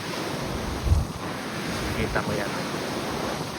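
Large ocean waves rush steadily past a cruise ship at sea, a continuous loud roar of surf mixed with wind noise, with a person briefly speaking over it.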